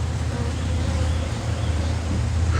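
Honey bees buzzing on a hive frame while a nuc is moved into an eight-frame box, a continuous close droning hum that stays even throughout.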